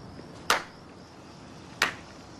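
Two sharp single hand claps, spaced more than a second apart, crisp and close against a quiet background.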